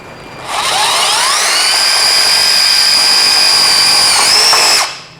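Ryobi Kyocera BID 10XR driver in tek screw mode drives a screw into a thick steel plate, a loud high whine that climbs in pitch, holds steady for about four seconds, then drops as the screw breaks through and stops.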